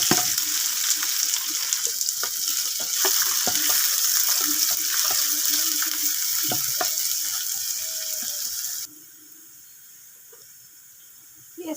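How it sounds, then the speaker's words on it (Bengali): Dried lentils with chopped onion and garlic sizzle in hot oil in a pan. The hiss is loud, steady and close, with scattered stirring clicks, and it cuts out abruptly near the end, leaving a quiet tail. "ফোড়নে দিয়ে দিলাম শুকনো ডাল, পেঁয়াজ রসুন কুচি,"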